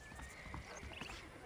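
Horse hooves clip-clop at a steady gait in the Western video game Red Dead Redemption, with a brief whinny, set low among faint game ambience and soft murmured voices.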